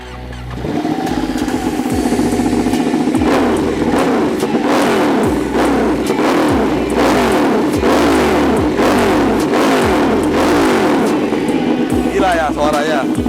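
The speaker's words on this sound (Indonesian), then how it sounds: "Karena emang ini suara mesinnya emang benar-benar suara mesin seorang petarung." Ducati Panigale 1199S superbike with an AC Project exhaust revving hard, a loud, rough, aggressive engine roar rising and falling in repeated bursts for most of the clip, with talking over it.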